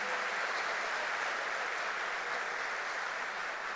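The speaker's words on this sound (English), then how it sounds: "And finally, a good applause for Elisa back in Segovia." Steady, dense applause from an audience at a Madrid welcome event for a new class carries evenly through the whole stretch, with no talking over it.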